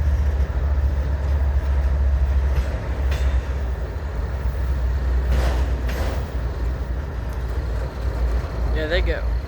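A long CSX boxcar freight train rolls past at Wartrace, Tennessee, a loud, continuous low rumble of wheels and cars with a few sharper metallic squeals and a short tonal screech near the end.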